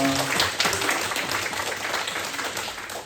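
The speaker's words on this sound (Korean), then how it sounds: "다들 박수하면서 축복하겠습니다" Korean church congregation applauding during a Palm Sunday worship service, a steady wash of many hands clapping at moderate loudness throughout, with a few voices briefly mixed in at the start.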